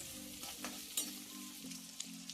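Steady close sizzle of squid masala frying in a pan, a continuous crackle with a few soft clinks from stirring.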